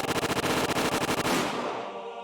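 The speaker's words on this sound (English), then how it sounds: "The sound of gunshots echoed in the silence." Rapid automatic gunfire in a video game, a fast rattling burst of evenly spaced shots that stops abruptly and trails off into a fading echo.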